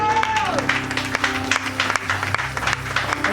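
A church congregation applauds during a thanksgiving service, with sustained clapping mixed with crowd noise, music and a voice over it.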